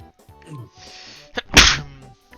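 A single sharp sneeze bursts out during a Mario Party game session on Woody Woods, preceded by brief soft mouth sounds and mumbling.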